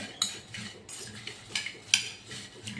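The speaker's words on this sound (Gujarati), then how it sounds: "જે મસાલો બનાવેલો છે તે આપણે સ્પ્રિંકલ કરી દઈશું ઉપર અને એને હલાવી લઈશું" A utensil clinks and scrapes against a dish while potato fries are stirred with spice masala, making a few quiet, irregular clinks close by.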